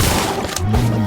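A bomb spell explodes in a Harry Potter video game: a loud, dense burst of blast noise filling the whole moment, with a low booming tail.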